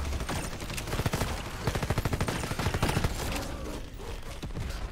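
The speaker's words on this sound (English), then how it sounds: "I'm gonna keep firing." Rapid automatic gunfire in Red Solstice 2, a fast rhythmic stream of shots rattling steadily for several seconds before tapering into background combat noise.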